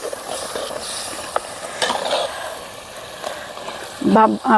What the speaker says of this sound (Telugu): అన్నీ వేసైతే ఇంకొకసారి బాగా కలుపుకుందాం ఈ మసాలాలన్నీ పచ్చివాసన పోయే వరకు అయితే కలుపుకుందాం